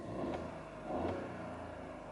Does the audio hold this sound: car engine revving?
yes